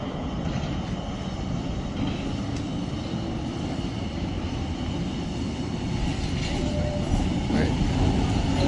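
Old tram rolling through a Prague street, a steady low rumble of wheels on rail with a faint squeal near the end, heard close alongside a brief spoken word.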